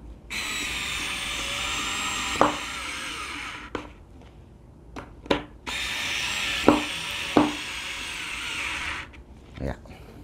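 A Ronix 8591 electric screwdriver whirs steadily in two long bursts, driving a screw into hard HPL board without a pilot hole, with clicks and knocks and a person talking between the runs.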